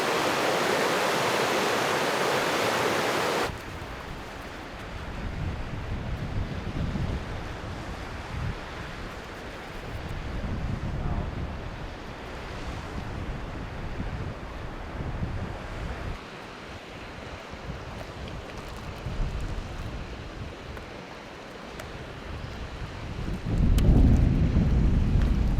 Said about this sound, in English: It's now starting to rain, pretty good